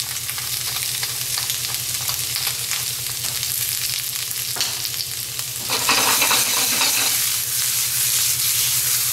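Garlic sizzles and caramelizes in a pan for a poached egg puttanesca, a steady close crackle with a low rhythmic hum underneath, getting a little louder and brighter as the food is stirred.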